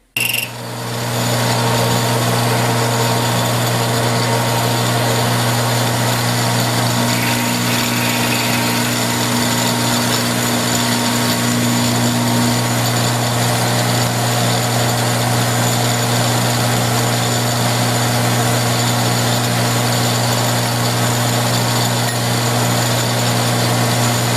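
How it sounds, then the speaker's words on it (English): A milling machine drives a 1/2 inch roughing end mill through two workpieces at once, a steady, loud mechanical whine with a constant motor hum that runs unbroken from start to finish, with no voices. "I decided to try and cut both pieces at the same time. I put in a 1/2 inch roughing end mill."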